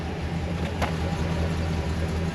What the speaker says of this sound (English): Funny sounding fuel pump.